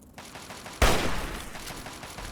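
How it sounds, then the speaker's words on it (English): One sharp crack of a damaged hunting rifle in Fallout 3, close and loud after a quiet stretch, with a short fading echo. "We could give our new hunting rifle a go"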